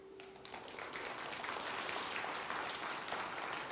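An audience in a lecture hall breaks into applause for a philosophy professor's talk, a moderate, continuous wash of clapping that swells slightly toward the middle and carries on evenly.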